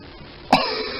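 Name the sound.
coughing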